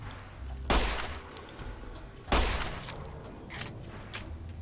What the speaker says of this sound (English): Long range pistol, bitch.